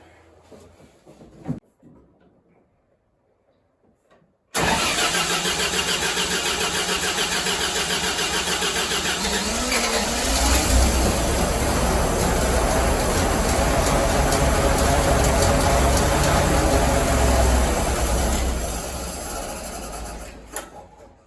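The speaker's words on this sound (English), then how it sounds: "So we'll get it fired up anyway and see what it's like." A 1932 Patterson tractor engine that has sat unused for a while cranks and catches after a few faint clicks, then runs loud and steady with a deep rumbling idle for the rest of the clip.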